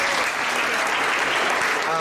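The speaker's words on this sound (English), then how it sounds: "Let's clap for them." Dense applause from a crowd at a book launch, loud and continuous throughout, with a voice faintly underneath.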